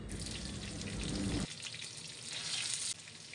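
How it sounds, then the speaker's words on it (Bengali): Chopped onion and ginger-garlic paste frying in hot oil, a loud, dense crackling sizzle that drops abruptly as the paste goes in, then builds again, close and continuous with no talking. "এখন আমি গরম তেলে সামান্য পরিমাণের পেঁয়াজ কুচি দিয়েছি এখন দিয়ে দিচ্ছি আদা রসুন পেস্ট"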